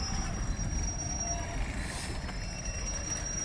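Deep continuous rumble of a GBRf Class 66 diesel locomotive, number 66724 'Drax Power Station', hauling train 4O19 as it departs, a steady low engine drone with a faint high whine over it and no talking.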